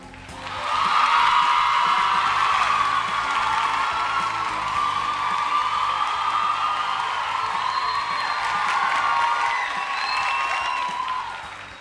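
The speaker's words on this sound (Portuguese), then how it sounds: "os aplausos do nosso auditório para a candidata número 1, a Renata" A TV variety show studio audience applauds a contestant, a belly dancer, with steady sustained clapping and some cheering that holds for about ten seconds before tapering off.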